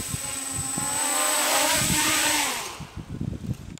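DIY mini quadcopter with a 3D-printed frame flying outdoors in wind, its high-pitched whine rising and falling as the motors throttle up nearby and then cutting back to sputtering gusts and handling noise.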